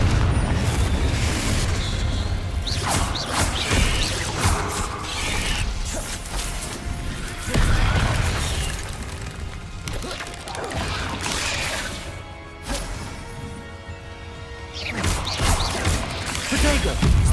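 Confringo blasting spells go off in Hogwarts Legacy combat, heavy booms and crashing debris recurring every few seconds amid mechanical clatter, loud and close.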